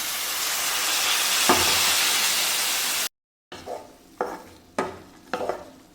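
Elephant foot yam flowers stir-fry for thoran in a pan, first with a steady close sizzle and hiss, then, after a brief break, with rhythmic spatula scrapes and clatter over a softer sizzle.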